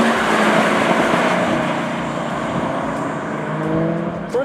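A Ford GT40 sports car engine drones from inside while driving, a loud, steady rumble with shifting tones as it moves through the gears, dipping slightly midway and lifting again toward the end.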